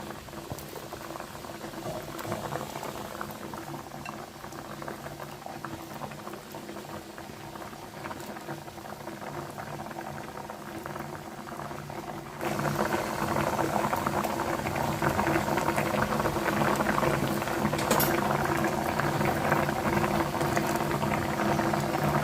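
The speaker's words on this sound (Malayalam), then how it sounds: "അത് ഇങ്ങനെ ഇട്ട് ഒരു നല്ലോണം തിളച്ച് കഴിഞ്ഞാൽ" Salted water boils hard in a cooking pot for kozhukatta, a continuous bubbling roil with small pops, growing louder and fuller partway through.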